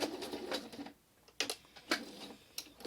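A home sewing machine back-tacks stitching on an autumn-themed art quilt strip, giving short bursts of rapid mechanical whirring separated by brief pauses, close and moderately loud with no voices.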